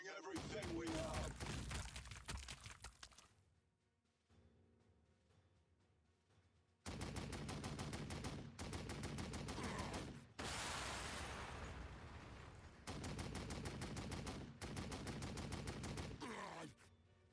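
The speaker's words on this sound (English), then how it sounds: "Firing everything we have." Bursts of heavy gunfire in the strategy game Warhammer 40000: Sanctus Reach, with repeated loud volleys separated by quieter lulls and rapid rattling shots.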